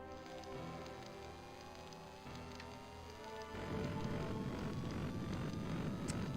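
A rain spell summoned in the Skies of Arcadia video game brings a steady hiss of falling rain and patter under a low rumble, which thickens and grows louder partway through.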